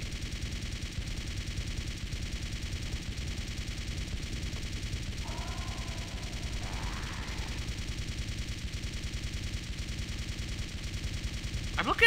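Rapid continuous gunfire from the PC shooter Blood 2: The Chosen, a steady rattling stream of shots held at an even level for the whole stretch, with brief faint game sounds partway through.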